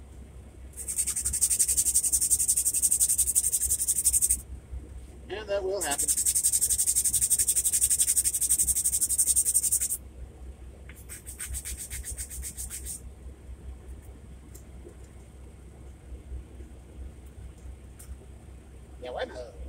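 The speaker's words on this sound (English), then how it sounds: "Got some sanding to do." Sanding a part for an O scale model train kitbash, with two long bursts of close, rough scratching and a shorter, fainter third, separated by quiet pauses and a brief spoken remark.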